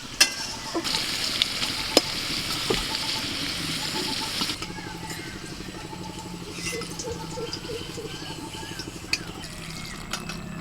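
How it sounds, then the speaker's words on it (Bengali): Potato pieces frying in oil in a wok give a loud, close hiss for the first few seconds, then the sizzle drops to a quieter crackle with spatula scrapes and clinks as the potatoes are stirred and lifted out. "এদিকে আমার আলুটা ভাজা হয়ে গেছে, তুলে নিচ্ছে"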